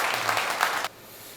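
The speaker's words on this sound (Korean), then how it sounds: "큰 박수 부탁드립니다." Applause from a crowd at a Buddhist inauguration ceremony, a dense burst of clapping lasting under a second that stops abruptly, leaving quiet room tone.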